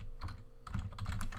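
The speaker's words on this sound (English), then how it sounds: "not Jefferson, not even typing twice, this is just a laggy computer." Close, fast typing on a computer keyboard, a quick patter of crisp key clicks with a brief pause partway through, heard alone without talk.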